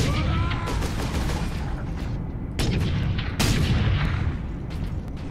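Gunfire from the Space Marine video game while shooting squigs, dense rumbling blasts and cracks layered over a constant loud roar of battle noise, with a couple of sharper bursts standing out.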